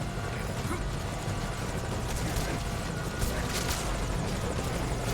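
A helicopter in a Metal Gear video game making a forced landing, its steady rotor whir and engine roar filling the scene continuously at moderate distance.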